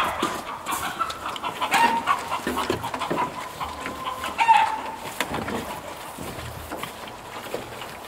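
Soft, scattered clucking from chickens nearby on a small farm, with a dog panting and moving around in the foreground.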